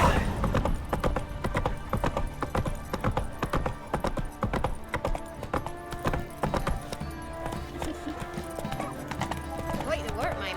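Hooves of a horse named in The Witcher 3 Wild Hunt clop in a steady rhythm as the rider moves along, with game music and a voice speaking over the hoofbeats.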